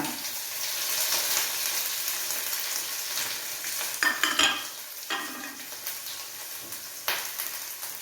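Onions frying in hot oil for a jackfruit seed sambar, giving a steady crackling sizzle with a few clinks of a spoon stirring the pan near the end and no voices.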